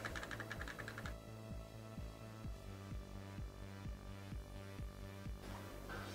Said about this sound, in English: start typing your delete key